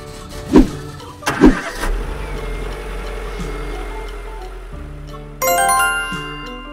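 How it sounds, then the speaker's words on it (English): A car engine starts, roars steadily for several seconds and then fades, opening with two short chime-like dings and ending in a higher bell-like jingle. "Car."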